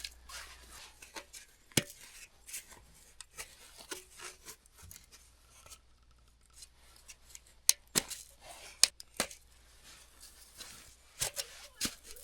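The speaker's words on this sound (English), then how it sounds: "I think I'll get a utility knife and make a clean cut on here" A utility knife slicing through plastic drain pipe makes sparse sharp cutting and scraping clicks with quiet gaps between them, close up and fairly faint, with no talk.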